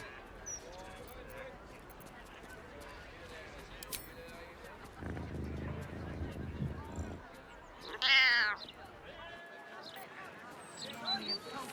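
Cat in Baldur's Gate 3 giving a short, clear meow partway through, set against quiet game ambience with a narrator's voice talking before it.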